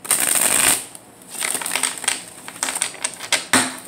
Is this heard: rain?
no